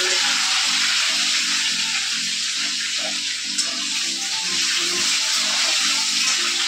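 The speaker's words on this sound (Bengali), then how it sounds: "দুটো গামলা ভর্তি করবে উপরে?" Water runs steadily from a tap, filling two basins at home, a continuous rushing splash with no talk and a faint tonal hum underneath.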